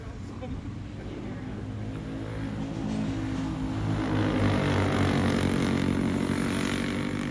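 A race car engine drones during a short-track race, running side by side down the back stretch; the roar holds steady and swells louder toward the end, with talk faintly in the background.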